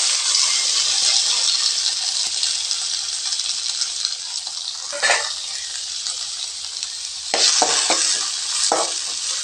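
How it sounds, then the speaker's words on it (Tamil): Chopped tomatoes fry in a pan for a lentil dish with a steady, close sizzle, broken by a few louder scraping stirs of a spoon near the middle and end. "இப்போ இதில் சேர்த்துக்கலாங்க"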